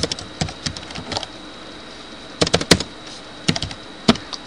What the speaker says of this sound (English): We'll type about as fast as Homer